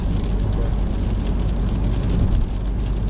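Steady rain drums on a moving car during a driving lesson, a constant close hiss with road rumble underneath and no talking.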